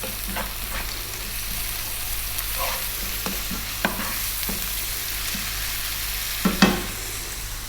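Ginger garlic paste with salt sizzling in a pan for a Mangalorean fish curry, a steady frying hiss under occasional soft scrapes and taps of a spoon being stirred, close up.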